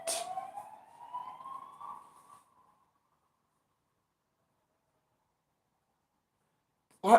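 A police car siren in Benidorm on New Year's Eve wails with a rising, sweeping tone for about two seconds, then fades into silence before a brief burst at the very end.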